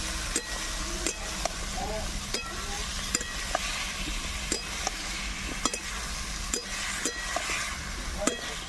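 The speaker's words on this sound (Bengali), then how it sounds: "দিয়ে আবারও ভালো করে একটু নাড়াচাড়া করে নেব" Prawn curry with young jackfruit stirred in a pan after a splash of water, with soft sizzling under regular clicking scrapes of the spoon, repeating roughly every half second to second.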